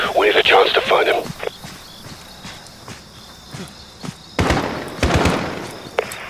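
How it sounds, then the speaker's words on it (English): Gunshots in the Call of Duty Modern Warfare game: a few sharp, loud bursts come in close succession near the end, after a brief stretch of voice and quiet background ambience. "Shot fired."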